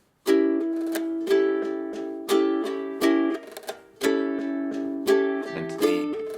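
A ukulele strums the chord rhythm of a song in clean, bright bursts, about seven strokes with a brief pause midway, ending on a quick down-up pair.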